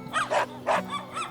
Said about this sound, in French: C'est probablement le chien du chasseur Kokumbo.